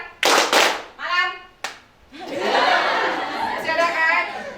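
A class of children claps along to a rhythmic clap chant in a classroom, with a few loud clap bursts and then a longer stretch of dense clapping and chatter, children's voices mixed in.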